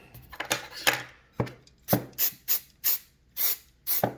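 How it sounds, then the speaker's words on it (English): CRC electronic cleaner sprays from an aerosol can onto parts of a 2008 Silverado in about ten short, sharp hissing bursts at close range, fired in an uneven rhythm with brief gaps between them. "I'm going to take some CRC electronic cleaner and just spray it."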